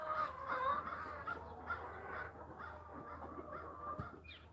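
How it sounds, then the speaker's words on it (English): Several crows caw repeatedly in the distance over a low outdoor rumble, harsh calls spaced irregularly. "I hear crows."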